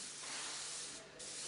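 An airbrush sprays paint in a steady, close, airy hiss while painting realistic flames, with a brief dip in the spray near the end before it resumes.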